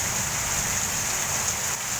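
Heavy rain pouring down in Rajamahendravaram, a dense, continuous hiss of falling water that stays loud and even throughout, with no voices.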